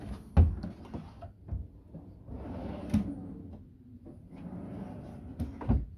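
Full-extension drawers on the left side of a camper van are pulled open and pushed shut several times, with sliding rumbles and sharp knocking thuds at irregular intervals, close and loud.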